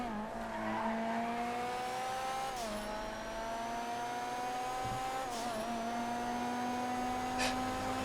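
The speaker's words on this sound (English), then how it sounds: "Oh, the Monroe. Awesome car." A Monroe sports car in GTA FiveM drives steadily with a sustained engine drone and clear gear-shift dips, plus brief tire squeals, close and continuous with no talk.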